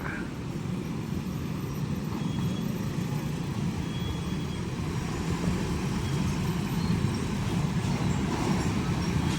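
Train rolling past a level crossing with a continuous low rumble and rattle of wagons, steady and fairly close, with road traffic mixed in.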